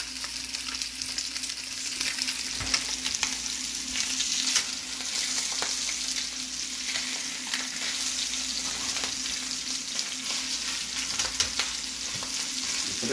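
Fish frying in a pan with pepper alongside, giving a steady, close sizzle and crackle that runs the whole time with small stirring clicks and no talking.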